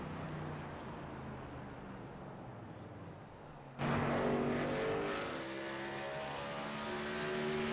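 A race truck lapping Bristol's oval in an SERL truck series event, its engine droning steadily at a distance before surging abruptly louder and nearer, then holding a sustained high-revving whine.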